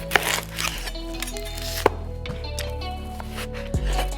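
A kitchen knife chops half an onion on a cutting board while ceviche is prepared. Sharp, distinct knocks land at uneven intervals, a few loud close strikes over a steady low background hum.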